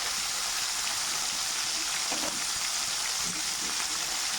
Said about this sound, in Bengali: মাছটা ভাজা করে নিচ্ছি